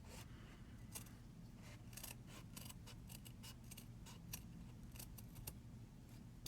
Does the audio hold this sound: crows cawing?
no